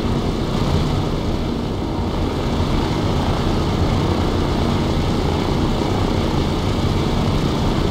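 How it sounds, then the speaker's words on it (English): Steady, loud helicopter rotor and engine drone from a helicopter circling overhead in the video game Breaking Point, continuing unchanged throughout, with no voices. "Helicopter still circling."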